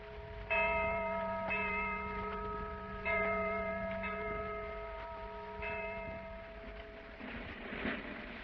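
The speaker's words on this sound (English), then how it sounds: "What is that distant bell? That, my friend, is the Liberty Bell." Liberty Bell ringing in Philadelphia for the Declaration of Independence celebration, several distant resonant strikes with long humming decay, spaced a second or more apart.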